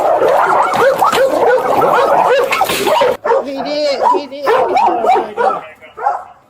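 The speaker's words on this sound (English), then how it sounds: "It's foreign. They're like vicious." Aggressive dogs loose in a residential neighborhood bark and yip rapidly and loudly, close by, with a brief whimper, while people shout over them.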